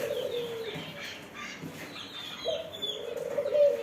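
Two close, drawn-out coos come from a caged ringneck dove in a poultry shop, with a pause between them and light rustling and faint chirps in the background.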